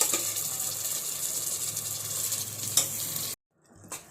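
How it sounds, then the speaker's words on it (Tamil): Soaked rice and lentils sizzle and scrape as they are stirred in a hot pan, a close, continuous frying hiss with clinks of the utensil, cutting off abruptly before a faint final scrape. "இப்போ ஊற வச்சுருக்க அரிசி பருப்பை ஆட் பண்ணிக்கலாம்."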